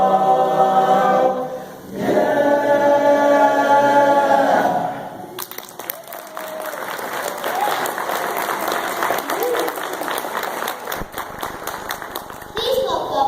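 Audience applause in a concert hall follows a chorus quartet's performance, a broad wash of clapping rising after a few seconds of singing and continuing steadily, fairly near and full.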